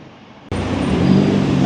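Car driving along Odesa city streets, with a steady broadband road and engine rumble that starts abruptly and holds loud and continuous, no voices.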